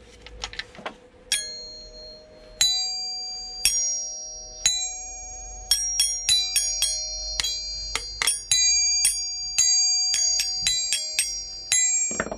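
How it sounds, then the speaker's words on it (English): Doorbell chime bars salvaged from scrap are struck one after another, giving clear bright xylophone-like dings with long ringing decays, about twenty strikes in an irregular rhythm, close and fairly loud. "So you've got your chimes."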